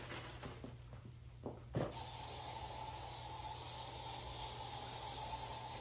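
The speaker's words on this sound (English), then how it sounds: "Oops, I want to spray it on my flowers there." Aerosol shine spray hissing onto a standing funeral spray of flowers, a steady close broadband hiss starting after a few faint handling taps and running continuously to the end.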